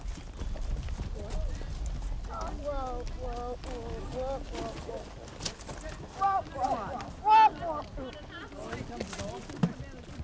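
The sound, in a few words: horses trotting on horseback mail run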